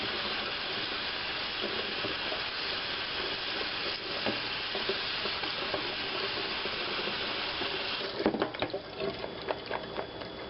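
Pickles rinsed under a running kitchen tap, a steady close hiss of flowing water with splashing bursts and clatter near the end as they are turned over.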